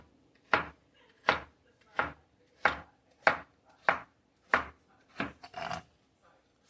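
A knife chops vegetables, likely tomatoes, for a creamy bratwurst stew with about nine close, evenly spaced thuds on a board, ending in a quicker flurry of cuts and a brief rustle.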